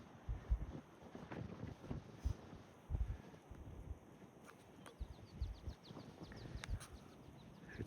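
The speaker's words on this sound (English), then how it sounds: "It's windy up here." Faint gusts of wind rumble in low bursts against the microphone, with a few soft chirps and scattered small knocks in a quiet outdoor setting.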